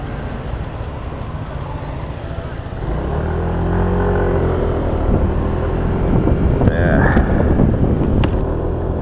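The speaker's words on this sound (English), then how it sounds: "We'll wait for these cars to go by because they're going quicker than we are." Cars driving past on a road, a steady broadband roar that swells as they pass close by, heavy wind buffeting across the microphone throughout.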